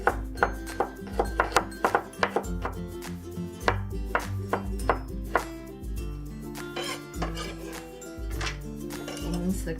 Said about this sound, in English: next let's slice up the shallots.